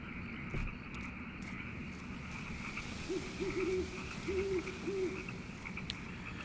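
An owl in the Kentucky Route 0 video game gives a handful of soft hoots in quick pairs over a steady night ambience of frogs and insects, faint and somewhat distant.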